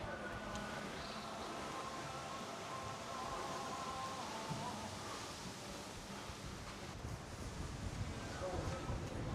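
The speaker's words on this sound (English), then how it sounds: "some wind" Wind blowing across an open town square in an old town on Gran Canaria, a steady broadband rush with faint rustling throughout and no voices.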